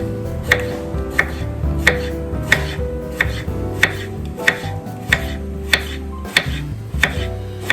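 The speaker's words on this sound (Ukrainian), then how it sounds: "наріжу його півкільцями" A knife slices a large Chinese cucumber into half-rings on a board, about a dozen crisp, evenly spaced chops in a steady rhythm, close and clear with nothing else heard.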